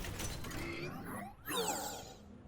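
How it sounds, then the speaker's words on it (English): Bastion shifting into turret mode in Overwatch, a loud mechanical wind-up of whirring, ratcheting gear sounds with a sweeping rise midway, heard alone over dense game audio. "So when Bastion goes into turret mode, there's a really loud wind-up noise that sounds like this."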